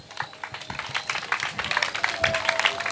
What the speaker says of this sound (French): On applaudit pour Grâce.